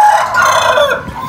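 Sick chickens cluck and a rooster crows loudly and close by on a poultry farm, the crow stretching out over a dense layer of clucking.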